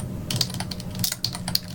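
Quick, close clicks of typing on a computer keyboard as a variable name is entered, a short burst of keystrokes with a few slightly louder taps.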